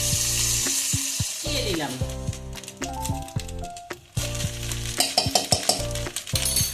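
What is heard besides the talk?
chicken frying in a pan for Chinese fried rice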